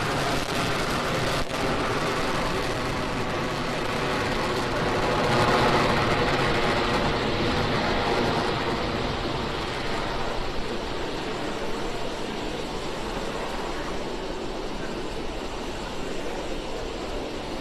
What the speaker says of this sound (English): we've just had a nominal liftoff of our Falcon 9 vehicle carrying our StarLink payload on its way to its targeted orbit